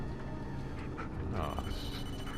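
A phone rings in the video game Blair Witch, its electronic tone sounding under a voice as he plays, with other game sounds in the background.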